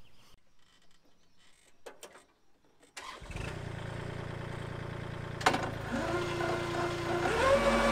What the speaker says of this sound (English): I probably won't be able to talk much over the tractor sound